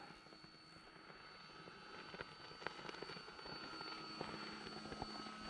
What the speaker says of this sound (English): My Valiant PMP 3-cell. Fly a little about 3/4 throttle.